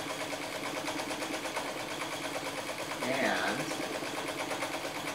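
A vintage White sewing machine runs steadily during free motion quilting, a close, even, fast mechanical whir that continues throughout, with a person talking over it.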